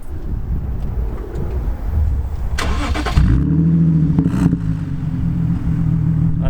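A BMW Z4 with its exhaust back box removed cranks and fires up, a brief starter whirr giving way to a loud, steady idle with a deep rumble close by.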